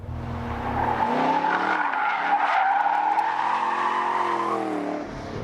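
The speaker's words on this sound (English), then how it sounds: "for a 60-0 braking test, very impressive stopping power, 101 feet from 60 miles an hour" A 2013 Chevrolet Camaro SS 1LE brakes hard from 60 mph, its tires squealing loudly and steadily for about four seconds before the sound cuts off.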